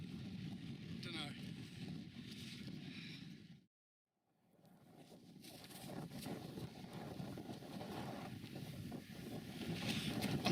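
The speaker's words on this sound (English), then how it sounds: "The wind's just whipping right through there." Strong wind gusts roar through a channel on Dartmoor during a winter wild camp, buffeting the microphone in a steady rushing blast that cuts out briefly before building again.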